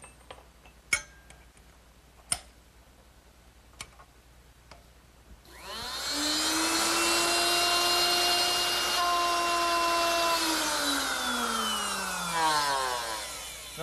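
A router fitted with a dovetail bit spins up after a few sharp taps and knocks, then whines steadily as it cuts dovetails in wood, a loud, close, continuous tone that dips slightly near the end.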